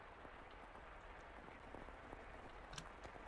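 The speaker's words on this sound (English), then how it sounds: "The sound of the rain never seems to stop." Rain falls steadily around a mansion in the video game The House in Fata Morgana, a faint, continuous hiss with scattered soft drops and no voices.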